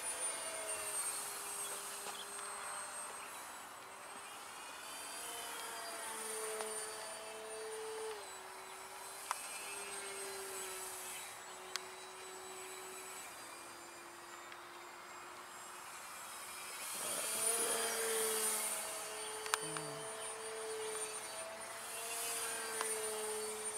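An Ugly Stik radio-controlled model airplane flying snappy aerobatics, its small engine whining faintly at a distance and rising and falling in pitch through loops and passes, with a brief louder surge as it comes closer.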